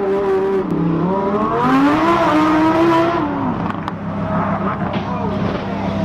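A Lamborghini sports car engine revving, with rising and falling tonal engine harmonics over several seconds and a quick gear-change dip, fairly loud and up close, while people can be heard talking over it.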